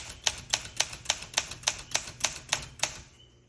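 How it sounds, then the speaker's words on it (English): Keys strike a 1966 Olympia SM9 manual typewriter in an even rhythm, about eleven crisp, close clacks spaced roughly a quarter second apart, with nothing else in the background. "SM9, let's go ahead and keep typing."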